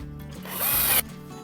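A power drill drives a screw into drywall in a rural house, a short close whirring burst of about half a second rising in pitch, then stopping, with no talking.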